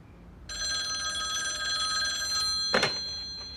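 A telephone bell rings loud and continuously for about two seconds, followed by a thunk as the receiver is picked up, in an indoor setting.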